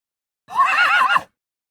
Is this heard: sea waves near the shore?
no